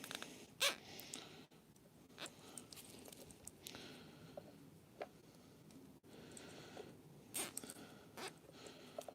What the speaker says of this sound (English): zip tie that up